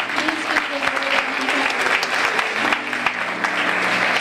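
Sustained applause from a crowd at a Christian conference in Toronto, steady and fairly loud, continuous clapping throughout with a faint voice underneath.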